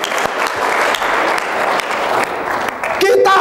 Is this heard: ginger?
no